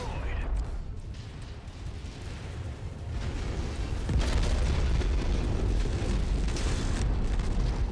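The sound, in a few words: explosion of destroyed enemy in video game Merctech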